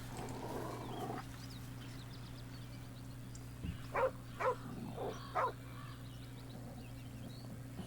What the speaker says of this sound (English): We have a dog guarding their master here.